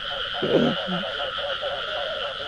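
A frog or toad in a rice field gives a short, loud, close croak early on, with a fainter second call just after, over a steady chorus of insects or frogs in the background.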